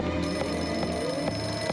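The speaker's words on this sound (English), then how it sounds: "And the phone rings again." Telephone rings in the PS2 adventure game Flower, Sun, and Rain, a repeating bell-like trill pulsing at a steady rhythm over a sustained musical backdrop, loud and alone without talk.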